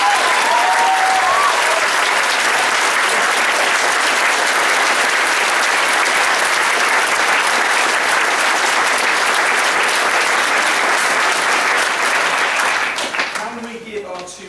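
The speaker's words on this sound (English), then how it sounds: "can we give them a massive round of applause?" An audience at a school music extravaganza gives the students a big round of applause, loud sustained clapping from a large crowd that fades near the end as a voice begins speaking.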